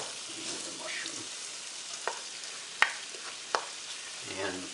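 Mushrooms fry in a pan, a soft continuous sizzle broken by a few sharp clinks and scrapes of a utensil against the pan, with no one talking.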